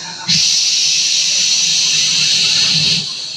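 A man imitates the loud hissing of noisy urination during a mosque sermon, producing a steady, harsh hiss that runs for about three seconds close to the microphone.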